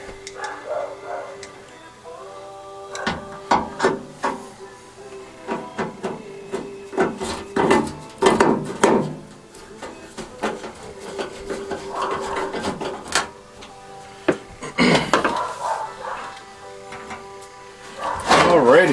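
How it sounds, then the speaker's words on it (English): A metal pan from a kerosene heater is fitted back together, giving close scraping, clanking and rubbing of sheet metal in irregular bursts, with a person talking at times in between. "So I'll get this pan back together."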